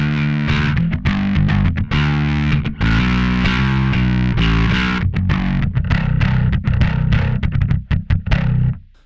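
Electric guitar played through an Alpha Omicron distortion pedal with all knobs at noon and no extra buttons engaged, a loud, gritty run of chords and riffs with rhythmic stops, close and alone without talk.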